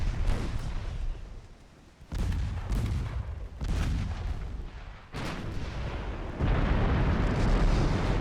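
Naval guns firing in a battle in Ultimate Admiral: Dreadnoughts, set in an 1895 French campaign: a series of heavy booming salvos, four or five deep blasts each trailing off, loud and close, with no talk.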